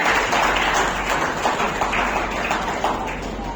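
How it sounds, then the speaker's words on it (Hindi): Audience applause fills the hall at an Orator of the Month award ceremony, a dense, steady wash of clapping that holds at full strength and eases slightly toward the end. "जोरदार तालियां"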